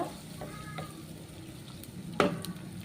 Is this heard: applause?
no